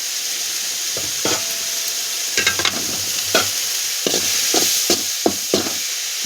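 Turmeric-coated rice stirred and sautéed in a pan on a steady low sizzle, with a series of sharp scraping strokes of a ladle recurring through the middle and end, no talk.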